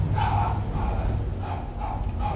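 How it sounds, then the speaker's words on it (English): A dog barks a few times in the distance, faint repeated barks over a steady background hum. "There goes that crazy dog again."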